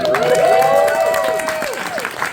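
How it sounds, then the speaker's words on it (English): Audience applause at a Q&A for a comedy episode, a steady wash of clapping with gliding whistle-like tones riding over it, fairly loud and fading slightly toward the end. "One more round of applause for Ben"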